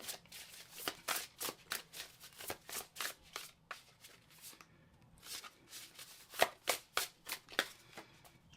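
Tarot cards shuffled by hand at close range, a soft, steady series of riffling slaps repeating roughly every half second, faint and quiet throughout.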